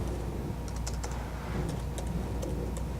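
Quick, uneven keystrokes clatter on a computer keyboard, close and fairly quiet, in a short burst of typing with no talking.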